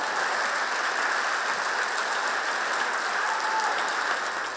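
Sustained audience applause fills a concert hall at a Kuban Cossack Choir performance, a dense, even wash of many hands clapping steadily with no voices heard.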